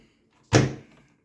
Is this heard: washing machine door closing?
yes